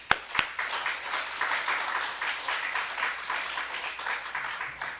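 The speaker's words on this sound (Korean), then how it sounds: "자, 하나님께 영광의 박수 돌리겠습니다." A church congregation claps together during a Sunday morning worship service, a sustained, even wash of applause from many people, with a couple of sharp louder claps at the start.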